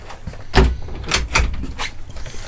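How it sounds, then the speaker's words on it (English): A motorhome cutlery drawer slides out and knocks, close thumps and rattling runner sounds in a few sharp bursts, with no talk. "A little cutlery drawer there. That's quite handy. Comes out."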